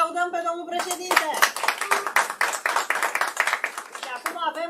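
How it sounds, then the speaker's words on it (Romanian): An audience applauds at a charity fundraising event for children with disabilities. Dense, steady clapping fills most of the stretch, and a voice speaks briefly before it starts. "să-l aplaudăm pe domnul președinte"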